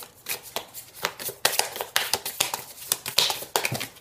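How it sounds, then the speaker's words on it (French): Tarot cards being shuffled by hand, a quick series of crisp riffling bursts and soft taps close to the microphone, repeating in an uneven rhythm. "Je vais prendre une carte de tarot."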